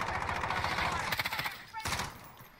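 Rapid bursts of gunfire in Call of Duty Warzone, a dense rattling volley that dies out and then flares again, with a player talking over it.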